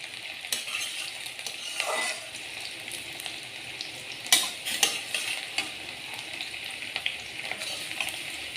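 Onions sizzling in a frying pan for a bitter gourd (kakrol) fry, with a steady close crackle, a few stirring scrapes and light metallic clinks of a utensil against the pan, no voices.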